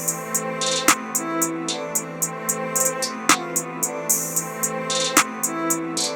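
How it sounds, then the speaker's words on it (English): Open hi-hat pattern in a trap beat, crisp bright hits in a fast, steady rhythm with occasional rolls over a sustained melodic loop and periodic snappy percussion accents. "And then next to that, we have an open hat."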